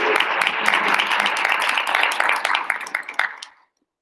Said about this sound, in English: claps for Riley